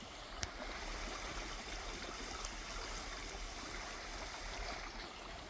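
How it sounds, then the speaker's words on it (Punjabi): Steady rush of a flowing stream in Zurich, a continuous broadband babble with no voices, fairly close and even in level. "ਕੱਲੀ ਪਾਣੀ ਦੀ ਆਵਾਜ਼ ਹੀ ਆਉਂਦੀ ਹੈ ਇਹਦੀ"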